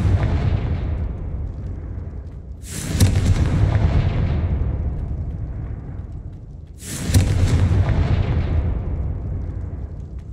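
Two heavy Confringo fire-spell blasts from the video game Hogwarts Legacy, each a sudden loud booming burst that rolls off into a long rumbling fade, about four seconds apart.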